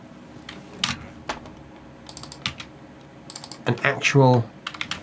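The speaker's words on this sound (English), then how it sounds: "you can literally click that and type in words" Typing on a computer keyboard, scattered clicks and short bursts of key taps nearby, with a voice speaking briefly over them.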